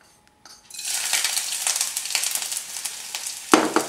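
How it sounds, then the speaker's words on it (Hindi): Chopped ginger hitting a hot oiled pan while cooking mustard greens: a brief clink, then a steady loud sizzle with scraping and stirring clicks, ending in a sharper metallic scrape. "इसको हम थोड़ा सा स्टर फ्राई करेंगे"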